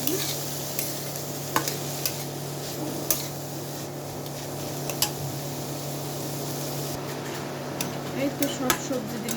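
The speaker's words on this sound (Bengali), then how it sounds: "এই তো সব সবজি দিলাম চিকেনের সাথে, ব্রকলি, টমেটো, ক্যারট দিলাম।" Boiled chicken frying in a pan with broccoli, tomato and carrot: steady loud sizzling with scraping stir strokes and occasional clinks, continuous throughout and close, with a low hum of a fan or extractor beneath.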